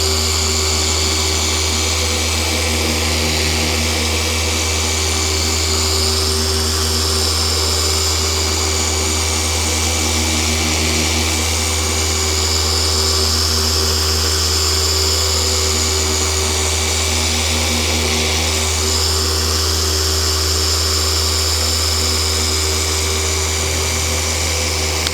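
A machine polisher buffs car paint during sanding and polishing toward a mirror finish, giving a continuous loud close whine with slow, periodic swells as the pad moves across the panel.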